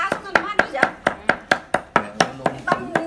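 A cleaver chops through rabbit rib bones on a board in a fast, steady rhythm of sharp, loud, close thwacks, about a dozen strikes in quick succession with no talk.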